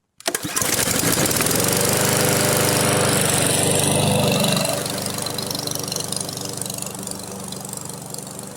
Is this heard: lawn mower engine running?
yes